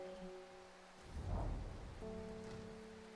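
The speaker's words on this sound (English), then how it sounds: "Does it ever stop raining in Undermere?" Steady rain falls in the town of Undermere in the video game Strange Horticulture, a soft continuous patter with a brief louder rumbling swell midway, under a quiet musical drone.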